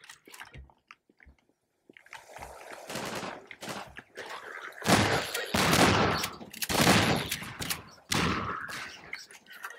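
Gunfire in the first-person shooter Half-Life 2: scattered quiet clicks, then loud repeated bursts of shots with reverberant blasts arriving in clustered waves, close and heavy.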